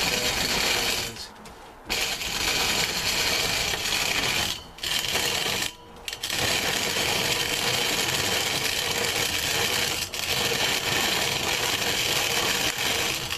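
A MayaPedal pedal-powered corn grinder and decobber works through dried corn, a steady gritty grinding and rattling that runs continuously with a few brief pauses.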